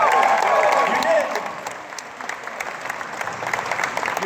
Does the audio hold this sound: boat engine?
no